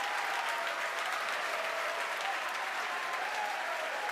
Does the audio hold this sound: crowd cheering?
yes